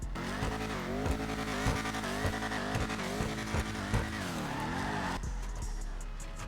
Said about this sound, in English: It's got a really cool like blow off valve noise that it makes when you're driving it.